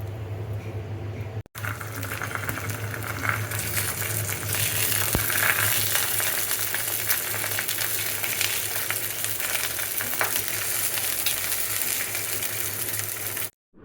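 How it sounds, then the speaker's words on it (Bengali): Paratha dry-frying in a pan without oil, a steady broadband hiss and crackle running almost continuously with a brief break near the start, fairly close and loud, with no talking. "সো একটু পরোটা ভেজে নিচ্ছি, তেল ছাড়া পরোটা"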